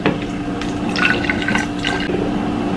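Water pours into baby bottles in a loud, close, gurgling stream, with the pitch of the filling shifting and a few splashy spikes over the steady flow.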